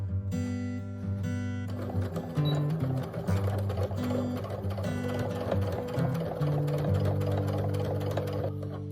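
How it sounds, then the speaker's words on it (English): Sewing machine stitching a straight seam across the top of a wallet's joined right sides, a steady mechanical whir with rapid needle clatter running continuously and loud throughout. "So let's try just sewing across the top of these right sides together."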